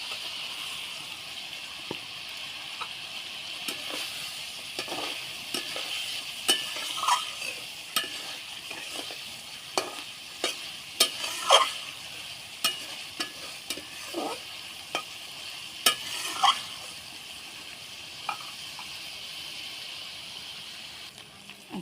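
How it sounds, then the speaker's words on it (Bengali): Eggs fry in a pan over a clay stove, giving a steady bright sizzle with scattered sharp pops and spatters, close and even throughout, with no voices. "এবার ডিমগুলো দিয়ে দেবো।"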